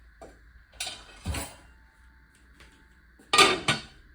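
Lid set onto a cooking pot of low-carb taco soup, a few sharp metallic clanks and scrapes in two bursts, close and clear in an otherwise quiet kitchen.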